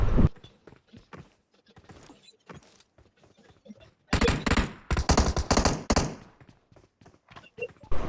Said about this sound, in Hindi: पीछे से एक बंदे ने M16 लेकर मेरे टीममेट को नॉक कर दिया था